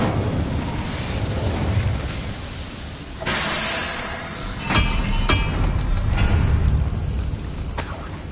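The Incendio fire spell is cast in Hogwarts Legacy, a burst of fiery whoosh and crackling blasts set over a dense, roaring game soundscape, with sharp impacts around the middle and no voices.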